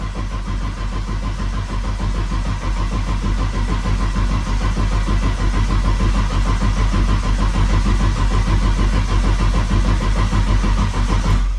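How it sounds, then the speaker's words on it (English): A Nissan RB six-cylinder engine running steadily, loud and close, with an even, throbbing idle that holds for the whole stretch and no voices. "it actually sounds like 6 cylinders once we see that oil pressure"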